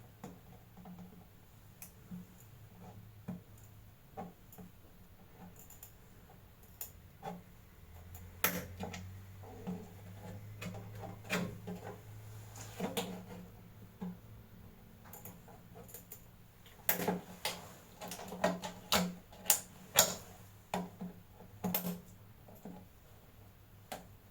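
Scissors snip through a part for an MP10, faint scattered clicks and cuts in an irregular rhythm, some quick clusters of snips, quiet and close against a hushed room.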